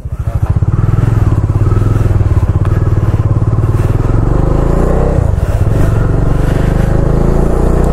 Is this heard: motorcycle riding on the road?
yes